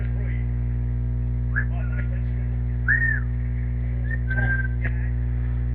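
A character in Assassin's Creed 3 whistles a few short, bright tune phrases over a steady low electrical hum, with no voices alongside.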